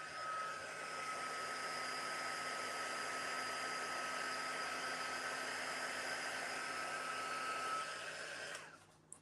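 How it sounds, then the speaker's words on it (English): A heat embossing tool blows a steady, loud, even whir as it heats embossing powder on mixed-media work, running continuously before cutting off abruptly near the end. "We're heating them to activate the embossing pattern."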